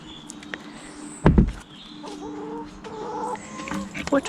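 Hens in a backyard coop with roost bars cluck and squawk in a noisy jumble. A sharp, loud burst comes near the middle, with softer, drawn-out clucks before and after.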